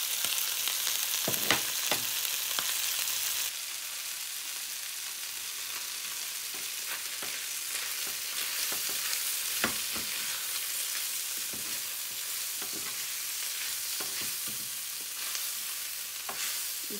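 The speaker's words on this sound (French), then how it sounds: "Il faut mélanger le tout." Mutton with mustard and mayonnaise being stirred in a hot pan, a steady loud sizzle with scattered soft scraping stirs throughout, no voices.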